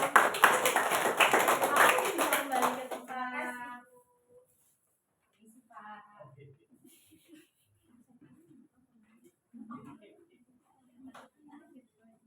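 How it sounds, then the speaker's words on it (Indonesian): A classroom of students applauds group 1 with dense, close clapping for about three seconds, which fades into scattered quiet voices and occasional talk. "Beri aplaus dulu untuk kelompok 1."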